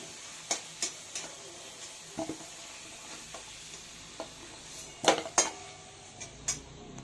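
Fried potatoes lifted out of hot oil in a pan while cooking a chicken dish: sparse, sharp metal clinks and scrapes of a utensil against the pan over a faint background sizzle.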